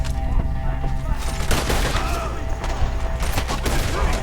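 Dense gunfire rattles through a Red Dead Redemption 2 shootout, with rapid overlapping shots and heavy booms over a loud, continuous background and faint shouting voices.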